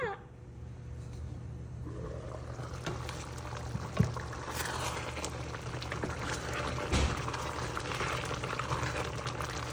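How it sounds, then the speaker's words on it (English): A thickening mixture boils vigorously in a pot on a kitchen stove, a steady bubbling hiss with occasional louder pops and spatters, close and moderate in level. "let it come to a boil, and let it get thick"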